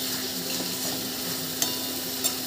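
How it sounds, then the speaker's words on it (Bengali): Shrimp sautéing in hot oil in a pan for a Bengali prawn malai curry, a steady close sizzle with two brief clinks of a spoon stirring, no voices. "চিংড়ি মাছটা দিয়ে একটু কষিয়ে নেব। দেখো তেল ছেড়ে এসেছে।"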